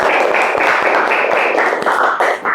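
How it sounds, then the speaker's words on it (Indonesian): Students in a classroom religious lesson clapping their hands together, a dense, loud and close patter of applause running steadily with no talk over it. "Luar biasa. Tepuk tangan."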